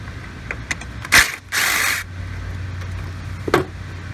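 Ratcheting and scraping on an 8mm bolt being removed from the A/C condenser fan of a Ford Edge, with two loud bursts of wrench clicks and rasping among scattered small clanks, close and without talk.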